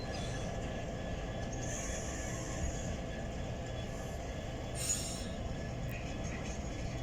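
A model railway train rumbles steadily into sidings, a continuous low rolling drone with faint metallic clinks and a brief higher squeal midway, heard at moderate distance.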